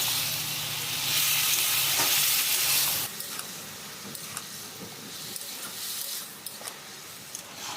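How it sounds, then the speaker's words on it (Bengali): Pre-boiled pumpkin curry being stirred into a hot pan with shrimp and pui stalks, giving loud close sizzling for about three seconds, then quieter frying with scattered scraping clicks of the spatula. "এবার আগে থেকে সিদ্ধ করা কুমড়োর তরকারিটা ঢেলে দেব ঢেলে ভালো করে নেবে নেব"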